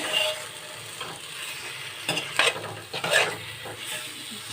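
Potatoes frying for restaurant-style palak aloo are stirred in a hot pan, a steady oil sizzle broken by several scraping sweeps of the spoon, close and fairly loud with no talking.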